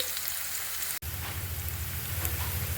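Onions fry in hot coconut oil with cumin, a steady, close hiss of sizzling with crackling texture, broken by a brief dropout near the first second.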